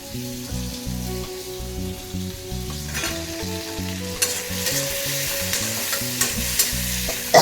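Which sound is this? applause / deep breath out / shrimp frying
shrimp frying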